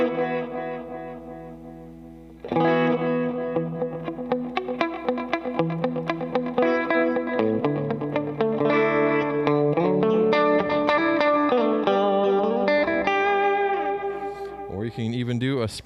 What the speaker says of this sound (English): but there's also room reverb.